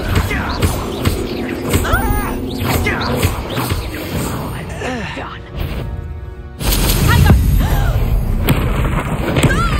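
Spell impacts in the Hogwarts Legacy video game, a dense run of booming thuds and crashes over game music, with a heavier, louder impact burst near the end.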